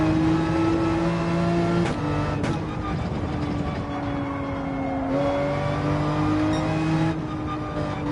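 Race car engine held at full throttle in Gran Turismo 7, a loud, steady high-pitched drone with brief dips as gears shift, continuous throughout.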